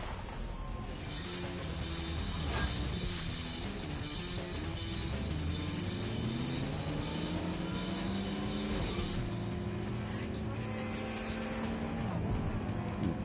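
A car driving in the video game Watch Dogs Legion, its engine rising and falling in pitch as it accelerates and shifts, running steadily and loudly throughout under a bed of game music and ambience.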